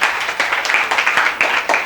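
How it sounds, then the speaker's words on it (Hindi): An audience claps loudly to welcome a student at a school Holi celebration, with dense rapid applause that stays steady and close throughout. "तो जोरदार ताली से स्वागत हो जाए लड़कों की तरफ से विवेक कुमार के लिए।"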